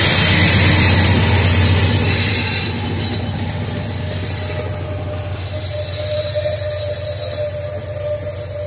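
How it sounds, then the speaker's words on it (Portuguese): A loaded VLI freight train hauls its wagons past at close range, wheels squealing loudly over a deep steady rumble that eases slightly after a few seconds. "acompanhamos aí o trem da VLI com a C, com toda a força aí, trazendo os vagões aí no sentido Paulínia"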